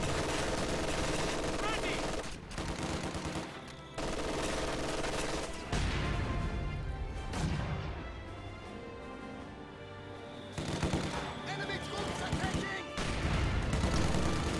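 MG42 machine gun and other gunfire in a wartime strategy video game, bursts of rapid shots and booms that cut in and out, with a voice commentating over the battle.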